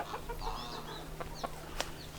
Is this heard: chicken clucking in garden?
yes